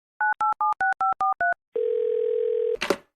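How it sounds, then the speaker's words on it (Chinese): A telephone call goes out: seven quick dialing tones beep in a steady rhythm, then a single long steady tone holds for about a second before a brief rustling burst at the end, with no talk. "打通第2个厨师的电话"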